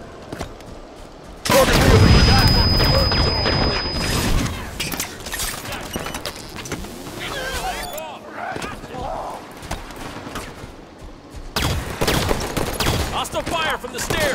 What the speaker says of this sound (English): Hostile fire from the stairs!